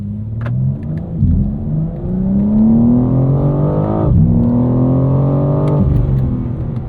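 BMW M4 accelerating hard away on a track at the BMW Performance Center, a loud, close engine note climbing steadily through several rising gear pulls, with brief dips at the shifts.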